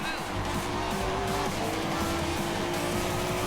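A race car in the Racing Master game drives continuously at speed, with a loud steady engine roar and some tyre noise, close and dense throughout.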